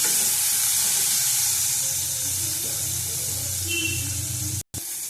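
Pointed gourd (potol) pieces fry in hot oil with a steady bright sizzle and soft crackle, fairly close, interrupted by a brief moment of silence near the end; no talking.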